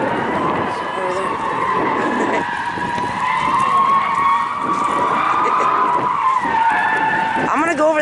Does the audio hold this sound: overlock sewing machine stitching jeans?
no